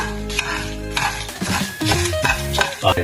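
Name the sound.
dry roasting cumin and chillies in a pan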